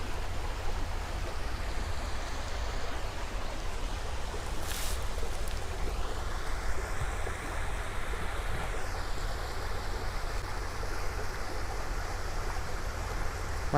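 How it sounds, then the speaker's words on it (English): A creek near old railroad ruins flows with a steady broadband rush of water, constant and moderately close, with no talking. A faint whistling tone drifts in and out. "And right there's the creek."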